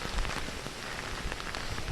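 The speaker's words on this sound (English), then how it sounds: "As you can see, the rain's coming down very heavily." Heavy rain pours steadily during Hurricane Irma in Southwest Ranches, a dense, continuous hiss of drops striking surfaces with wind folded in, fairly loud and close, with no one talking.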